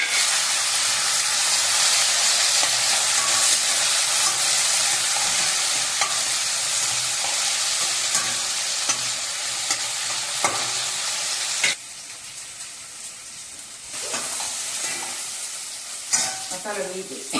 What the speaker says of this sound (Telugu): మసాలా వేసి ఆనియన్స్ వేగిపోయింది